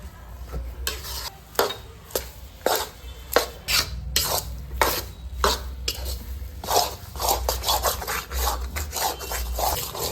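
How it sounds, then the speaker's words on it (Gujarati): A spoon scraping through urad flour as it roasts in ghee in a pan over low heat, with repeated close rasping strokes at an irregular rhythm over a faint sizzle. "ધીમે ધીમે હલાવતા જઈશું લોટ નીચે બેસી ન જાય તેનું ધ્યાન રાખવું ધીમા ગેસે તેને શેકી લેવાનો છે"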